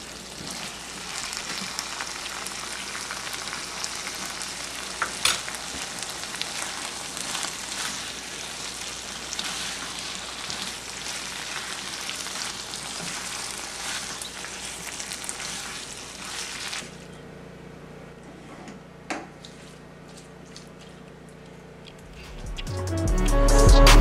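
Eggplant pieces cooking in a pan for a sweet and spicy dry Tamil curry give a steady, bright sizzle and crackle that hushes abruptly when a lid goes on, leaving faint bubbling and a dull clunk at the end.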